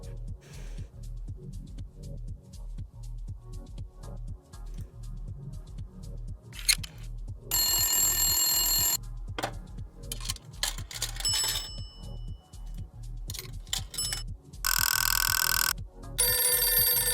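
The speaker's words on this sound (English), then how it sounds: "I was looking for some phone sound effects." A telephone bell sound effect rings in several bright, loud bursts of rapid metallic trilling, with gaps between them, over a steady low musical background.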